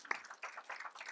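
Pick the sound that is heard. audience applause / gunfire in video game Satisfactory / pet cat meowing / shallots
audience applause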